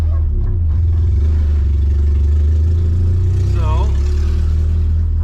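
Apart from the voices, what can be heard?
Honda Integra car engine revving on test drive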